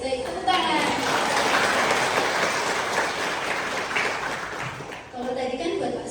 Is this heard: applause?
yes